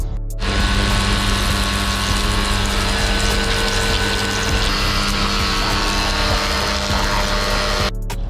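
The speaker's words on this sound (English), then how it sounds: "Alright, first little water blast," A pressure water blaster hisses loudly and continuously against a stripped vehicle gearbox in a wash bay, starting abruptly and cutting off near the end, with a steady pump drone underneath.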